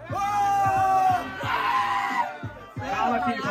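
Crowd at a Brazilian student rap battle semi-final shouting and screaming together in loud, sustained bursts of yelling and whooping, with brief dips between the waves of noise.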